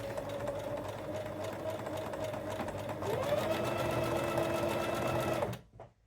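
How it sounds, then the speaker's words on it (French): Sewing machine running a continuous satin stitch over two elastics for an underwire bra, steady close whir that rises in pitch briefly midway and stops abruptly near the end. "on vient en point de bourdon maintenir les deux élastiques ensemble"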